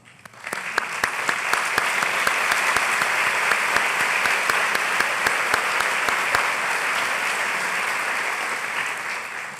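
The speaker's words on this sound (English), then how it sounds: "I would like all the vice presidents to stand so that we can give them a round of applause." At a university convocation, an audience applauds the standing vice presidents: a full, steady roar of clapping that swells quickly, holds, then eases slightly, with a few sharp individual claps standing out near the front.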